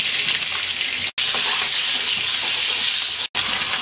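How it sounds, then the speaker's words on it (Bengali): Eggs frying in hot oil with turmeric and salt in a wok, a steady loud hiss and crackle of sizzling broken by two brief near-silent gaps. "ডিম ভাজা হয়ে গেছে, তুলে নিচ্ছি।"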